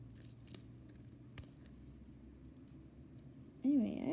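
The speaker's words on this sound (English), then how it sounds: "And then I'm just going to be trimming the edges so it's" Scissors snip the edges of a doll craft with a few sharp, close cuts spread apart, and a voice starts talking near the end.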